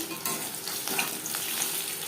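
Chicken pakoras frying in oil over a medium flame, with a dense, continuous crackling sizzle that stays close and steady throughout.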